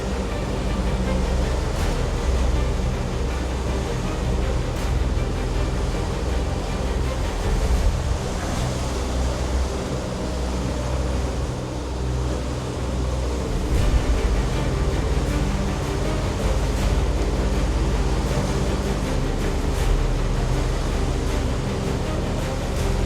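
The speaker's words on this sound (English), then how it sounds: "a bit closer to those breaking waves" Steady roar of surf and breaking waves with wind over Queensland's Wide Bay Bar in a 3 m swell, a constant wash of noise from start to finish with no talking.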